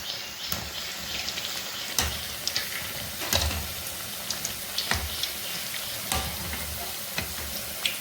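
Parupu vadai, crisp lentil fritters, deep-frying in hot oil, a steady close sizzle and bubbling with occasional sharp pops and a few soft clinks, no voices.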